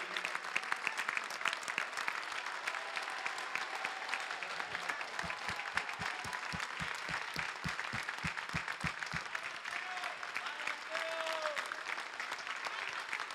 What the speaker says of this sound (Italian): un grande applauso al ministro dell'interno Matteo Salvini